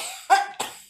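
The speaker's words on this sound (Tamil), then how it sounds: "இருமல் வருதா?" Two short, sharp coughs in quick succession from one person, close and clear with a brief gap between them and no talking.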